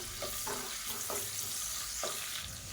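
Green chillies and broken cashews fry in a pan of hot oil for pongal, a close, constant sizzle broken by a few soft stirring scrapes, with no talking.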